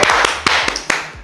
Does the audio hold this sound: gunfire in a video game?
no